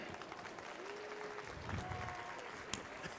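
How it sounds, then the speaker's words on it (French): An audience claps at the Salon du Chocolat de Montréal 2024 as a pastry chef is welcomed on stage. The applause is faint, distant and steady, with a voice briefly over it. "j'aimerais que vous fassiez une belle main d'applaudissements pour Julie Vachon."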